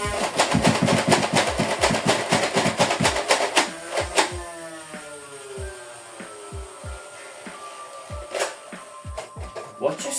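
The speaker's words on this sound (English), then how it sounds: "Now I'm going to fire the xshot XL series, like waffle head darts" Nerf Elite 2.0 Double Punch blaster firing X-Shot XL waffle-head darts, a quick burst of sharp mechanical clacks followed by slower scattered thuds and clicks, with a motor-like whine and a person talking.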